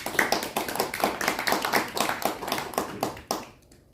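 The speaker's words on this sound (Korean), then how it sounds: "그분들께 우리 한번 큰 박수 한번 드릴까요?" Audience applause at a poetry recital concert, a modest crowd clapping in quick, uneven bursts at close range, sustained for a few seconds before trailing off into quiet.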